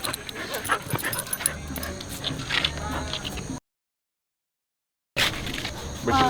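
Frank facing off with a street dog in Belize, a close scuffle of yips, whimpers and panting over noisy outdoor rustle, with voices in the background, broken by a short silent gap.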